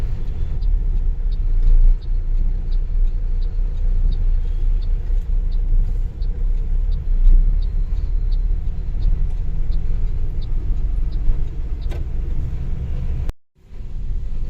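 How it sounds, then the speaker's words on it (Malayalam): A busy town street on the NH66 route at Uppala during steady rain: buses and other traffic make a continuous low engine rumble close by, with faint repeated ticking above it and a brief drop near the end. "ഇവിടെ ഇഷ്ടം പോലെ ബസ് ഉണ്ട് കേട്ടോ."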